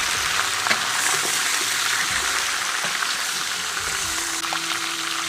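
Lamb ribs go into hot oil with rock sugar that has caramelized yellow, giving a steady, close, dense sizzle of frying throughout with a faint clatter of stirring.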